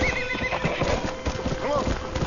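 A stallion whinnies with a rising, wavering call amid steady clip-clopping hooves and busy background noise in the video game Red Dead Redemption, while a voice talks over it.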